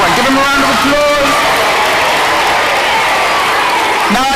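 A school debate audience in the UK claps for a speaker, a dense spatter of applause filling the room with a few voices and whoops rising over it near the start and again at the end.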